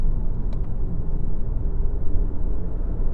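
A Volkswagen Passat 1.8 TSI pulls hard in third gear, its engine a steady deep rumble heard from inside the car, loud and continuous without talk.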